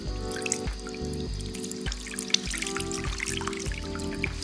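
Running water rinses perm solution out of short hair at a salon sink, a steady close splashing and dripping flow with soft irregular drips and no talking.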